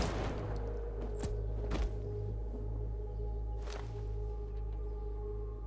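Gunfire in the video game Zero Parades: a few sharp, separate reports, one near the start and others a couple of seconds apart, over a steady droning music bed with no talk.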